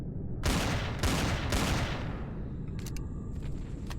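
Loud gunfire in the sci-fi survival game Empyrion: Galactic Survival, with three heavy booming shots in quick succession followed by trailing reverberation and faint electronic beeps.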